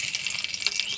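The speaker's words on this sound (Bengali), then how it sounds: "এবার ফোড়নে দিয়ে দিব শুকনো লঙ্কা আর জিরা।" Dried red chillies and whole cumin sizzle in hot oil as a tempering for a Teesta river foli fish curry, a close, steady crackling hiss over the whole second with no talk.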